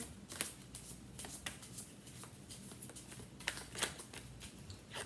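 Tarot cards being shuffled and flipped during a reading, giving soft, irregular papery riffles and flicks with a few sharper snaps, fairly quiet and close, with no talking.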